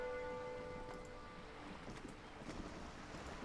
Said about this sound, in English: these waves are practically deafening